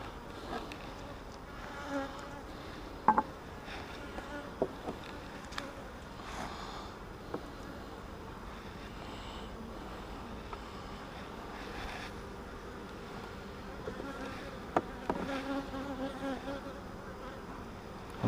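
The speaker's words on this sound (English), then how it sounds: "There's several at the door, and they're buzzing." Bees buzzing at the entrance of a mating nuc hive, a faint steady hum with several brief closer buzzes and taps as individual bees come and go.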